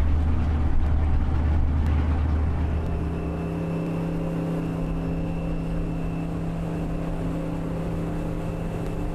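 A trimaran's engine hums steadily at low speed, with a louder deep rumble in the first few seconds before settling to an even drone.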